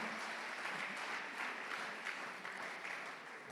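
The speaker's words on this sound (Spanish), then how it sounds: "Si van a aplaudir, háganlo con alegría" A church congregation claps in a sustained, moderately loud round of applause, an even patter of many hands lasting a few seconds.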